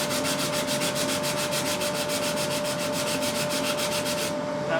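Guitar wood being sanded across the grain with 120 grit sandpaper, a steady close rhythmic rasp of quick back-and-forth strokes that stops just before the end.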